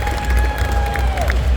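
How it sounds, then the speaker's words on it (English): Audience applause and cheering at a pinup pageant held during a New England tattoo expo, a steady wash of clapping from a crowd with faint voices mixed in. "Round of applause for Betty Boop."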